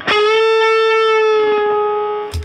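A distorted electric guitar plays the second part of a harmony, a single loud sustained note that rings and slowly decays before a brief string noise at the end.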